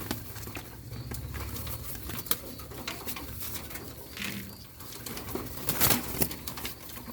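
Pigeons in a flyers loft at feeding time coo softly amid fluttering and pattering movement, with scattered bird calls and occasional louder bursts near the end.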